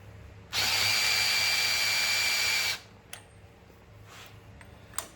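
A power drill spins an oil pump primer on a big block Mopar engine, a loud steady whine lasting about two seconds before cutting off, followed by a few faint clicks.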